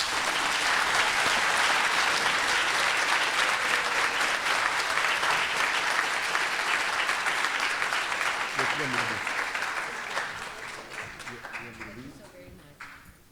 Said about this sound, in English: Let's give up a round of applause again for the mayor.